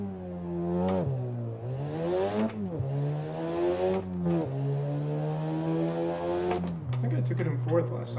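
A Mazda RX-7 FD rotary engine revving hard in the Initial D arcade racing game, rising and dropping through several gear shifts, loud and close, with talk over it.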